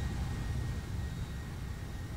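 Jet engines of a Boeing 757 cargo aircraft cruising over France in the X-Plane 11 flight simulator: a steady, even low-frequency roar with faint broadband hiss, quiet and unbroken throughout.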